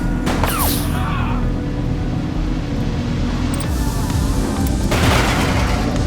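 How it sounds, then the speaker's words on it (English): Heavy gunfire bursts and booms from a police shootout in The Precinct video game, a dense loud barrage throughout over vehicle rumble, with a brief whooshing pass near the start and a sharper burst near the end. "Shots fired!"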